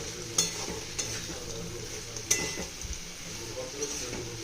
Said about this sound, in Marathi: आता त्याच्यात आपण गूळ घालायचा आहे गूळ चांगला वितळेपर्यंत हलवायचा आहे आपल्याला